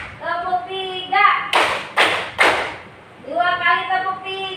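Children in a classroom clapping game clap three sharp, quick times in a row, bracketed by a voice talking before and after.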